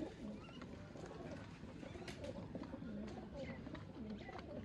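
Pigeons of the Ustad Mian Nazir bloodline, with a female, coo in low repeated phrases amid steady background chirps and murmur, close and moderately loud, with a voice talking over part of it.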